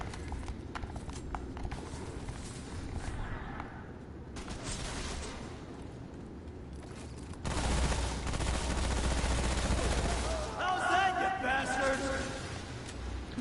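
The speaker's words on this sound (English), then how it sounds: "Who's shooting at me?" Gunfire in the video game Remnant on PS5, with sharp shots and rapid bursts scattered through game noise that swells louder and denser in the second half, with speech-like sound present but no clear words.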